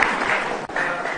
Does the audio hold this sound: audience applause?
yes